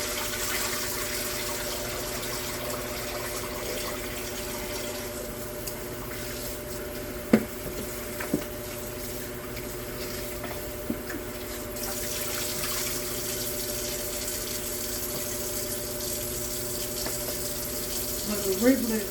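Tap water runs continuously into a sink, rinsing meat that had been soaking in salt water in a home kitchen, a steady hiss broken by a few sharp knocks and splashes as it is handled.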